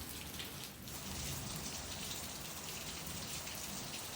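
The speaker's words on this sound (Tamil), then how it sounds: "கொஞ்ச நேரத்துல மழை காலத்துல மழை பெய்யற மாதிரி நல்ல குளிர மழை பெஞ்சிருக்கு" Steady rain pours down on a cool, cloudy day, a dense, constant hiss of drops hitting surfaces with no voices.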